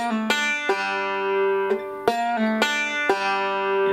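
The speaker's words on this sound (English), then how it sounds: "Make sure you can get that first string to ring out cleanly." Bright bluegrass banjo notes ring out one after another, several plucked and pulled-off tones on the first string sustaining cleanly, played solo and close with no talking.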